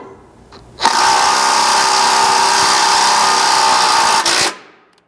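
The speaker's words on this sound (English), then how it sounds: "You'll have to apply a little bit of inward pressure to your impact and then tighten this up." An impact wrench tightens a bolt on a mount for a Blitz rock slider on a Chevy Colorado truck, one steady loud buzzing run of about three and a half seconds, close up, with no talk.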